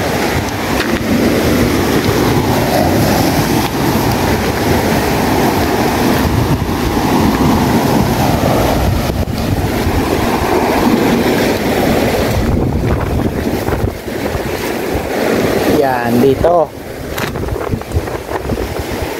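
A small fishing boat moves across the open sea, with constant loud wind buffeting the microphone and the wash of water against the hull, plus a few faint words spoken near the end.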